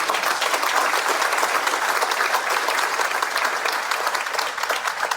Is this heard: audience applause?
yes